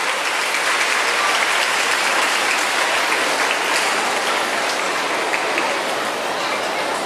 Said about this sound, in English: Let's give a big round of applause to Mr. Justin Limhap.